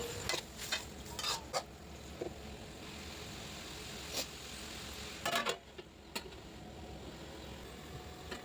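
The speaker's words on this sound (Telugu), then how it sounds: "కరివేపాకు కొంచెం వేగిన తర్వాత అందులో ముందుగా కట్ చేసి పెట్టుకున్న టొమాటోస్ కూడా వేయించుకోండి" Chopped tomatoes and curry leaves frying in a pan, a soft steady sizzle with scattered sharp clicks and scrapes of stirring, nobody speaking.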